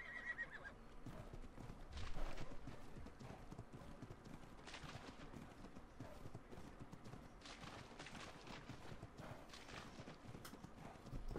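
A horse clip-clops steadily in the survival video game Ark on the Ragnarok map, its hooves a dense continuous rhythm with an occasional neigh or whinny, all under a steady bed of ambient game noise.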